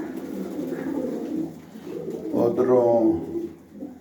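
Pet pigeons coo softly and repeatedly close by, their low throaty calls blending with someone talking over them.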